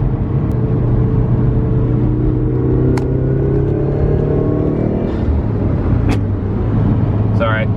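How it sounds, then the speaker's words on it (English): Subaru engine pulling hard in third gear, with a loud, steady in-cabin drone that holds throughout and rises gradually in pitch as it accelerates, faint voice traces near the end. "I did a pretty hard pull in third, where occasionally I would get that roughness."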